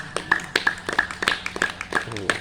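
A group claps in a steady, evenly spaced rhythm during a yoga pranayama session, the sharp claps counted out one after another over faint background voices.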